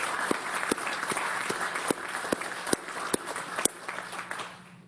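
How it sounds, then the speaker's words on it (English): A crowd at a completion celebration applauds the workers at Oak Ridge, with steady, moderately distant clapping and a few sharper individual claps before it fades out. "Let's give the workers another great round of applause."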